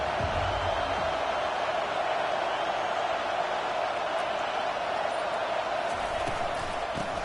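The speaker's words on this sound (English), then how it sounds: "This crowd bringing an ear-splitting welcome to their visitors." A football stadium crowd at an OSU game roars in a constant, loud wash of cheering and noise that fills the whole stretch without letup, with no words spoken.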